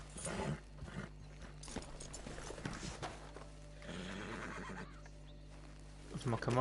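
A horse whinnies amid busy game sounds in Red Dead Redemption 2 Online, with hoof clops and a brief voice mixed in, moderately loud over a steady background.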